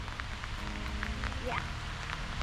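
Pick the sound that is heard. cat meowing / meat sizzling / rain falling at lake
rain falling at lake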